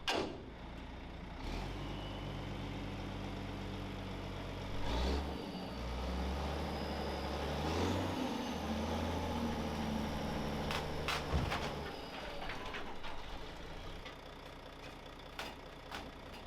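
A delivery truck carrying stones runs its engine at a steady rumble, surging as it moves forward, with a sharp brake hiss and clunks as the load shifts, all without voices.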